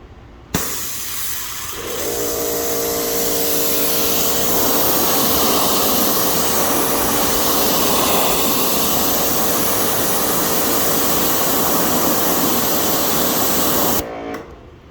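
A Karcher K1900 electric pressure washer switches on and sprays, a loud, steady hiss with a droning motor hum that runs unbroken for about twelve seconds before cutting off abruptly.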